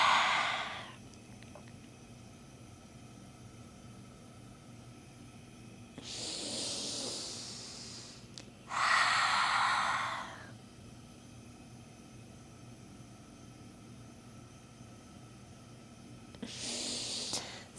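Forceful nasal exhales during Agni Sara yoga, three strong hissing breaths spaced several seconds apart, close and clear, with a softer breath at the very start and end and quiet pauses between.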